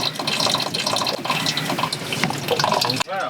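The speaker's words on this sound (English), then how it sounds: "it's just straight up pouring water in and bilging every like minute and a half" Water pours steadily and loudly into a leaking pontoon boat, a continuous gushing splash that fills the whole stretch before cutting off abruptly near the end.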